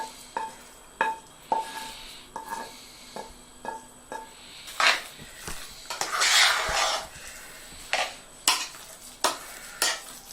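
Fried carrot, onion and bell pepper tipped out into a pan, giving a series of sharp scraping and clinking utensil strikes with a brief burst of sizzling partway through, close and fairly loud, with no talk.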